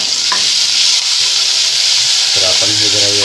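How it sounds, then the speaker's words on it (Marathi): Chili and garlic paste sizzles loudly in a hot pan with cumin while a spoon stirs it, with steady frying hiss under intermittent scraping strokes and a couple of sharp clinks, close and without speech. "तर याला थोडं मिक्स करून घेऊया आता"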